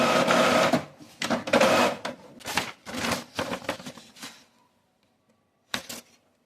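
An Epson EcoTank M2170 printer prints with several mechanical whirring and clattering bursts, then falls quiet apart from one short final click-whir near the end.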